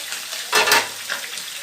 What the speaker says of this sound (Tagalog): Yung piniprito kong konti yung salmon para masarap